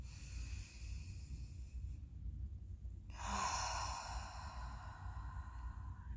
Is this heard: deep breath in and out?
yes